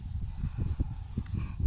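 Horse hooves clip-clop in an uneven series of close, dull thuds, several steps over a couple of seconds with background noise and no voices.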